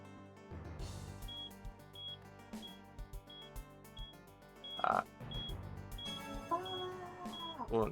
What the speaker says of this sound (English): I don't know if you can hear that beeping